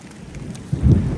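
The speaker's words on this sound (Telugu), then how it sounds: "చాలా భయంకరమైన వర్షం" Heavy rain pours over a tent at a hilltop camp, a steady wash of low rumbling noise that swells louder in the second half, with no talk.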